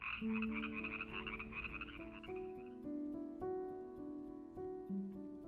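Frogs in park wetlands and seasonal pools in South Africa, a chorus of repeated croaks and pulsing calls, fairly close and clear, with no voices.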